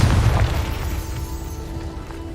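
A Confringo blasting spell detonating in Hogwarts Legacy on PS5, a single deep boom that rolls off into a fading rumble over about two seconds, loud and close with no talking.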